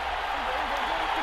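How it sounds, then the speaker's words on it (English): Steady roar of a stadium crowd in the Madden NFL 24 football video game, a dense continuous wash of cheering and noise late in a close game, unbroken and fairly loud throughout. "This crowd turning up the decibel level."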